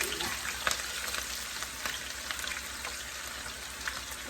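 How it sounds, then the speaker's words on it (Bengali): Bitter gourd and potatoes fry in hot oil, giving a steady, close crackling sizzle with scattered pops that runs continuously throughout. "আলু দিয়ে ভাজি করবো তেল সব কিছু দিয়ে দিচ্ছি"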